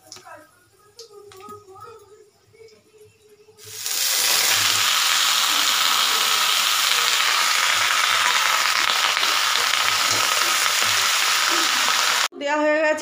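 Bottle gourd pieces hit hot oil tempered with bay leaf and five-spice seeds, setting off a sudden loud, dense sizzle that roars steadily for several seconds after a voice briefly talks, then cuts off.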